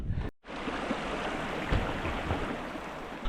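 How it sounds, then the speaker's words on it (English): A small stream flows steadily in hilly countryside, a close, continuous gentle burble and wash of water after a brief dropout at the start, with no talking. "A lovely little stream to cool off at the end of a very hot, warm day"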